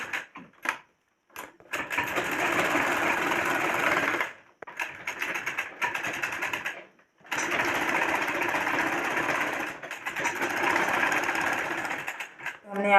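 A sewing machine runs in several sustained bursts while stitching a kurta sleeve, with short quiet gaps and small clicks of handling between runs.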